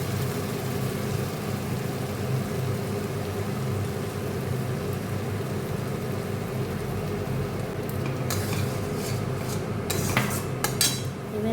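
Potato dum curry masala with cashew and poppy seed paste sautés in a pan with a steady, even hiss, and a few sharp utensil clatters break in near the end.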